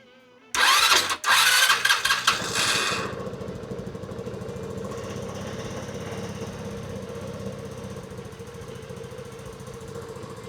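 A Rusi RFI 175 motorcycle engine with a new spark plug cranks with loud, choppy bursts for about two seconds, then catches and settles into a steady, rough idle that runs on to the end without any talk.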